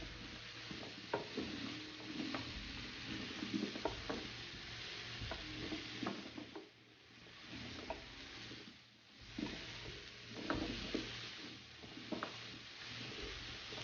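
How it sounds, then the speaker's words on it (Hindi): A spoon stirs achari mixed vegetables in a pan over the heat, scraping steadily with gentle sizzling and intermittent clinks against the metal, with no voices. "अच्छे तरीके से मिक्स कर लें"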